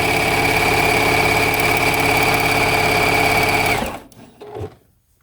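A sewing machine stitches binding onto a quilt at a loud, steady, fast whir for about four seconds, then stops and leaves a brief quiet handling sound.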